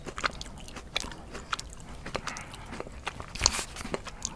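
Jelly beans are bitten and chewed close to the microphone, giving soft, sticky crunches in quiet, irregular bursts. No talking is heard.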